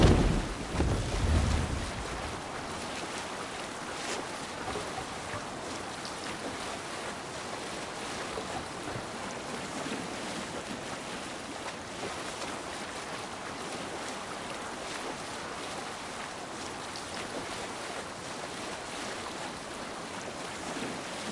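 A longship sails across open ocean in Assassin's Creed Valhalla, with a continuous wash of waves and wind rushing past the hull, steady and loud throughout after a brief low thump at the start.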